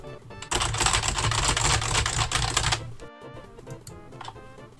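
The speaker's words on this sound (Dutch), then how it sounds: "ik ga wat heel randoms op mijn toetsenbord slaan" Rapid, dense clatter of random keys mashed on a computer keyboard for about two and a half seconds, followed by a few scattered keystrokes, close and fairly loud with no voice present.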